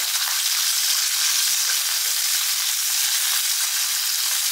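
Small shallots frying in hot oil with green chillies for Madurai-style thanni chutney, a loud, dense, unbroken sizzle heard close up with no talking.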